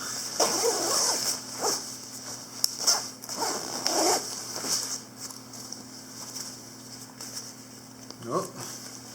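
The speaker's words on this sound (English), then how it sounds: "when you're storing it, you'd want to zip it back up." The zipper on a Kelty Cosmic 20 degree DriDown sleeping bag is pulled in several short, scratchy bursts at close range, separated by pauses, over a steady low background hum.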